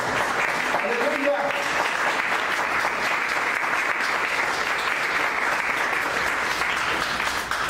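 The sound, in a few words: congregation applauding as an offering to God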